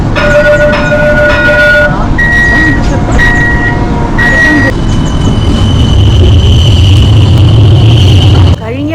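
A Mauritius metro train hums and rumbles loudly nearby, with several repeated electronic tones before the sound swells as the train moves past.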